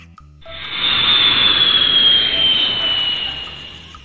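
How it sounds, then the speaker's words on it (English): A plane speeds down a runway and lifts off, a loud sustained jet roar that swells quickly, holds steady with a high whine, then slowly fades. "Then the plane speeds down the runway and zooms up into the air."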